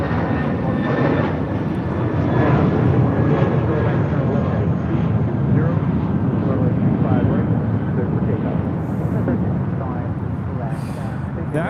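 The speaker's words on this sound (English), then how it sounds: "1463 taking off to Los Cabos on an A320." JetBlue Airbus A320 taking off at LAX for Los Cabos, a loud sustained jet engine roar that swells and holds, heard from near the airfield with a voice talking over it.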